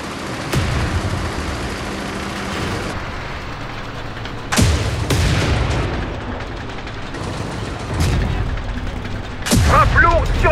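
AMX-30 tank cannon shots in the video game Tank Company, four heavy booming blasts spaced a few seconds apart over a steady engine rumble and battlefield din.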